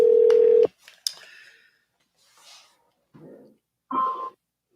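Telephone dialing tones while placing a call-in, a sustained steady tone followed by a few brief keypad beeps, fairly close, with short gaps of quiet between them.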